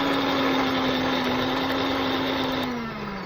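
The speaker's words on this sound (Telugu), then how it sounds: "ఈ విధంగా వైబ్రేషన్ వచ్చి సౌండ్ అయితే రావడం జరుగుతుంది." A Pigeon Super Storm 750W mixer grinder runs with a worn bush, giving a steady, loud motor whine with rattling vibration that holds for about three seconds, then dips slightly in pitch near the end.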